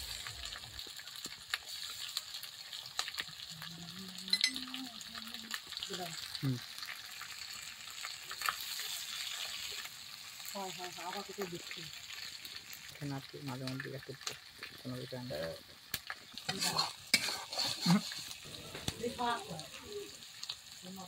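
Shredded cabbage stirred and fried with spices in a pan, giving a steady low sizzle with scraping stir strokes and brief voices in the background.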